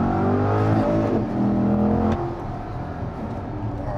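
A twin-cylinder motorcycle engine idles and revs gently close by, a steady low throb with a mild rise and fall and no high-revving peaks.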